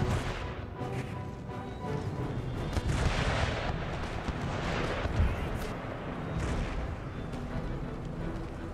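Cannon artillery fire from an Empire Total War battle, including 6-pounder batteries, booms repeatedly and rumbles in a dense, continuous barrage alongside scattered musket-like cracks, with occasional faint talk beneath.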